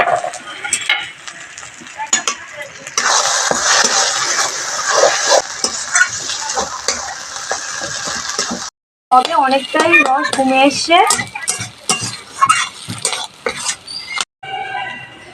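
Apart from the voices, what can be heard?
stirring and frying drumstick leaf paste with prawns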